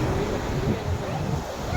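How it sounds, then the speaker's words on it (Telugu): Sea waves wash onto a shore near Chilika Lake in Odisha as a continuous, loud roar of surf mixed with gusty wind buffeting the microphone. "సముద్రం, ఇది ఒక సముద్ర తీరం"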